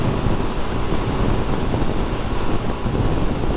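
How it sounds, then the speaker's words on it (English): Wind roars steadily past a rider on a 2022 Suzuki DRZ400SM motorcycle cruising in fifth gear on a windy day, a loud, dense, unbroken buffeting rush close against the microphone. "Yeah, it's definitely windy."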